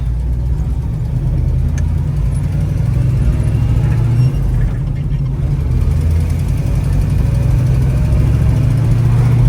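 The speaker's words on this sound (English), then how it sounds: "Got a little exhaust leak I can hear." A 1967 Chevy with a 440ci small-block engine rumbles steadily at low pitch, its exhaust leak adding a rough, raspy edge to the continuous drone, heard from inside or close by as the car runs.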